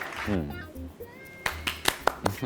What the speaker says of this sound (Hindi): अच्छा, तालियां ही बजानी है।